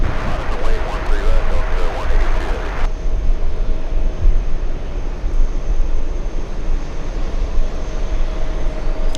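JetBlue airliner at JFK, a broad engine rumble with a higher whine early on that drops away after a few seconds, leaving a steady moderate drone.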